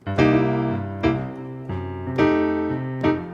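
Piano playing a repeating groove of struck chords with ghost notes on the and of 2 and 4, a handful of sustained attacks ringing out clearly and alone.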